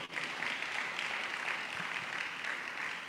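Audience at a Global Apostolic and Prophetic Summit applauding Evangelist Helen from Lagos, a steady, dense wash of clapping that holds evenly from start to finish.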